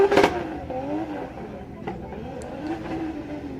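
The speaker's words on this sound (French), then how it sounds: "La E30 de la S-Team qui essaie de maintenir sa proximité au bord de piste" A BMW E30 drift car slides along the edge of the track during a dry run at a Drift France 2024 event, its engine note wavering and rising with a loud burst at the start, then steady, sustained drone.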